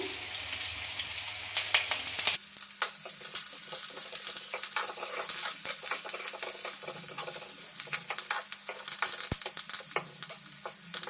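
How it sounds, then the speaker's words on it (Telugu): A whole sprig of curry leaves dropped into hot oil for a tempering, a sudden burst of loud crackling sizzle that settles into steady, close frying for several seconds. "ఒక రెమ్మంతా కరేపాకు వేస్తున్నాను"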